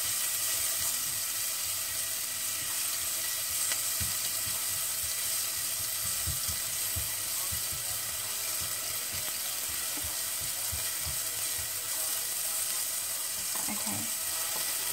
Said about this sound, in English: I'll just saute it to reduce the raw flavor of the vegetables